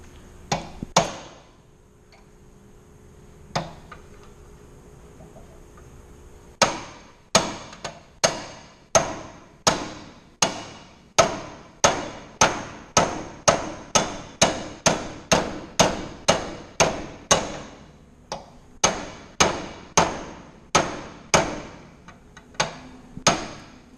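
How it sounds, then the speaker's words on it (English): A mini sledgehammer drives a steel punch on an Alliance washer handle hinge, giving sharp metallic blows: a few scattered strikes, then a long, steady run of rapid, loud, close hammer hits with a brief pause partway through. "You're going to want to do this with a mini sledgehammer"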